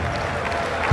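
Applause from a basketball arena crowd at Pala Castellana in San Severo, joined by the team bench, a steady dense wash of clapping through a short burst.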